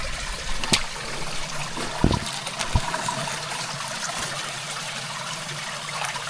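Water from an automatic garden sprinkler runs in a steady, continuous trickling hiss close by, broken by a few brief handling knocks.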